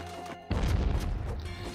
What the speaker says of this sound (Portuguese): essa explosão tirou muita vida